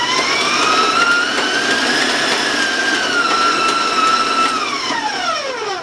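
An electric mixer whirs at a higher speed while beating chocolate mocha chip cookie dough with granulated sugar, a loud continuous motor whine that rises slightly in pitch and then drops away toward the end.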